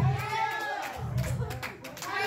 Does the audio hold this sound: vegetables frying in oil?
no